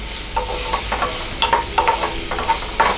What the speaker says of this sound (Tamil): பச்சை மிளகாய், வெங்காயம் இது ரெண்டையுமே ஆட் பண்ணிக்கலாம். இது வந்து நல்லா வதங்கணும்.